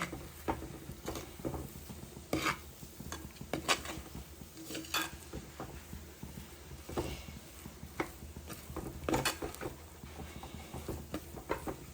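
A metal spoon stirs spice powders and green chillies in a pan, making repeated scraping clinks and taps against the pan over a soft background hiss, with a steady, uneven rhythm throughout.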